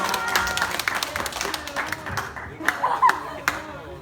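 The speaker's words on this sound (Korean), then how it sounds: "우리 주인 나올 때 다시 한번 박수로 우리 2번 후보 주인입니다." Church youth congregation applauds a middle-school student council candidate at an Easter service, scattered clapping of moderate loudness filling the whole stretch with a few sharper claps standing out.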